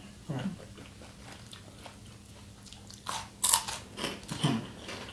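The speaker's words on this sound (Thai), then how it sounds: "แคบหมูกรอบมาก" Crispy Thai pork rinds (khaep mu) are bitten and chewed up close, a few sharp crunches and crackles clustered toward the end over a quiet room hum.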